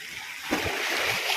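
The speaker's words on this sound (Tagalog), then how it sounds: "Ang lalaki ng alon dyan" Sea waves splash and surge in a brief rushing burst, a hissy wash rising midway, fairly faint and close.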